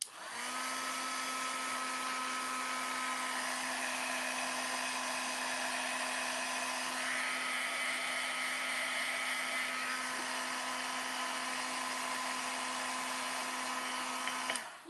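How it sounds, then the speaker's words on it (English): An electric heat tool blows steadily, heating embossing powder for a Christmas card craft, a constant close whirring hum with a fixed tonal whine that runs unbroken for about fifteen seconds. "I'm going to heat up my embossing powder."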